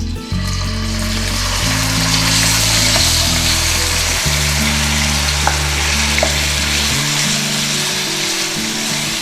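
Marinated chicken frying in about four spoons of cooking oil, a loud, steady close-up sizzle with a low humming drone underneath and occasional faint clicks, running continuously without speech.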